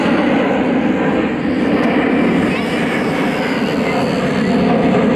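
A control line model airplane engine drones steadily at an air show during judged aerobatic maneuvers, a continuous loud buzzing whine with faint talk beneath.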